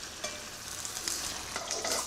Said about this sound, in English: frying them first to bring out the chili flavour